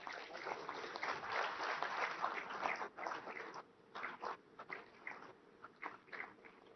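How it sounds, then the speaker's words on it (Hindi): Applause from an assembled crowd welcoming the Prime Minister at the inauguration event of the Hazira-Ghogha Ro-Pax ferry service in Gujarat, faint and somewhat muffled, swelling then thinning into scattered bursts toward the end. "सभी से निवेदन है कि एक बार और जोरदार ताली बजाकर उनका स्वागत करें"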